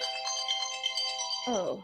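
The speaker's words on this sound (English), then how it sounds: "Phone call." An incoming phone call sets off a ringtone, a steady electronic melody playing loud and close. A brief voice or sliding tone cuts in at the end.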